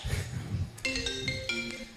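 A phone rings with a bright electronic melody of short repeated tones, moderately loud, following a few moments of murmured talk and noise in a staged skit.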